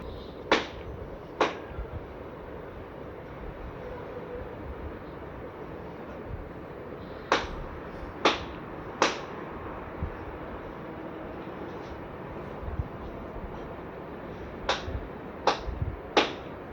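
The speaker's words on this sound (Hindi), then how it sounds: "और यहाँ पे मेरे जेठ के बेटे ताली बजा के पितरों को आह्वान कर रहे हैं" Sharp hand claps ring out during a Hindu funeral ritual to invoke the ancestors, landing in small clusters of two or three with long pauses between them over a low outdoor murmur.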